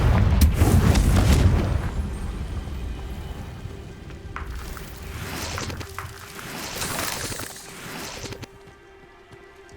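A Confringo fire spell bursts in the Hogwarts Legacy video game, a loud booming blast up front that fades into rumbling crackle and scattered impacts, with no one talking.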